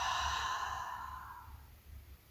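A single long, forceful exhalation through the mouth during a yoga breathing exercise, a close breathy rush that fades out gradually into quiet.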